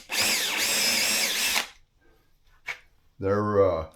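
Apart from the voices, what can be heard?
power drill drilling holes in rails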